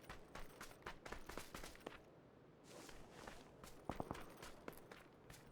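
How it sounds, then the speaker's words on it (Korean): Footsteps in PUBG come from below inside a building as a quiet, steady series of soft thuds and scuffs, with a slightly louder cluster near the end and no talking. "밑에서 발소리."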